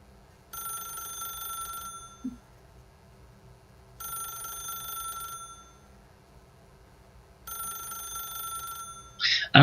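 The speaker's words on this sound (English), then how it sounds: "the phone will just keep ringing forever, unless not picking it up is a choice" A telephone in the video game The Stanley Parable rings in three separate bursts of about two seconds each, with quiet gaps between them, moderately loud and near, and a brief sharp click at the very end.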